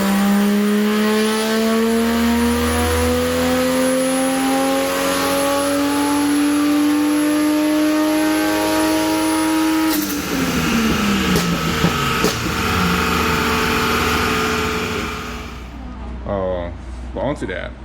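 Tuned 1JZ engine in a Lexus IS300 revving hard on a dyno, holding a long rising high-rpm pull before dropping off with pops and sputters as it settles toward idle, loud and close.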